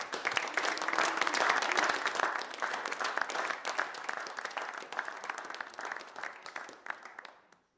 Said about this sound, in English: So I'd like to get a round of applause for all of them